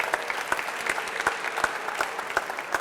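An audience claps at a coffee farming forum in honor of women entering agriculture, the sparse, rhythmic claps fairly close and steady throughout with no talk over them.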